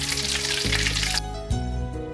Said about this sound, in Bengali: এইরকম করে বাকি সব কয়টা আমি সেম ওয়েতে ভাজবো